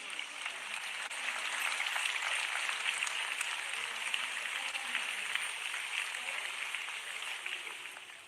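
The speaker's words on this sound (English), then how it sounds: "a big round of applause for these brave paratroopers" An outdoor crowd applauds paratroopers at an Army Day parade in Bengaluru, a steady wash of clapping from a distance that holds for several seconds.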